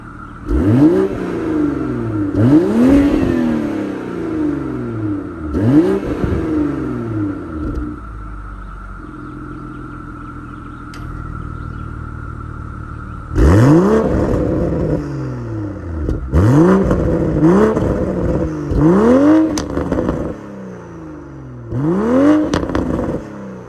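A 2021 Toyota GR Supra accelerating hard through repeated gear changes, the engine note climbing in rising sweeps with short dips between shifts and a quieter idling stretch midway, loud and close from inside the car.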